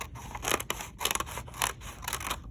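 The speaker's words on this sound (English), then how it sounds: "So this line I'm going to cut using this fold as a guideline" Scissors snip steadily through folded paper along the crease while cutting Halloween accordion paper cut-outs, a quick series of close, crisp crunching cuts heard alone.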